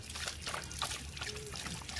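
A pet dog laps at running tap water, a steady trickle with faint wet splashes, close and fairly quiet, with a faint voice in the background.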